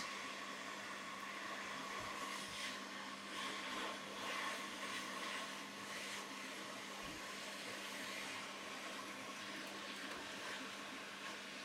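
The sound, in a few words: hot air rework station blowing on motherboard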